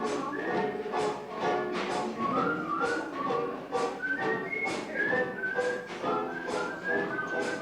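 A person whistling a melody on an old seniors concert tape recording, clear bright notes rising and falling in short phrases, solo and fairly close, with no talk.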